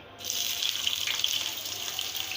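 Onions drop into about four tablespoons of hot oil in a frying pan and set off a sudden burst of bright sizzling hiss. The sizzle holds steady and fairly loud to the end.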